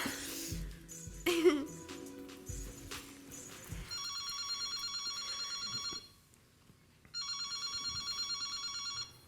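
An electronic telephone ring repeats in two long trilling bursts with a short pause between, heard clearly in a live stage performance after a brief stretch of laughter and shuffling from the audience.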